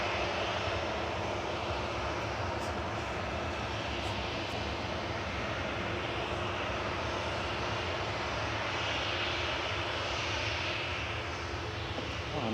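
A plane taxis at Manchester Airport, its aircraft engine giving a steady, broad whooshing roar at moderate distance that holds level throughout with no talk.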